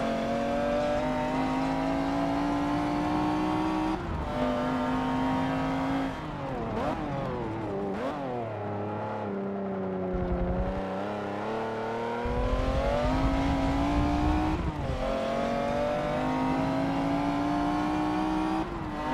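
Race car engine in Forza Motorsport 7 at Eau Rouge, Spa, roaring steadily at high revs, dipping through gear changes and pulling back up, loud and continuous with a whining drivetrain and no talk.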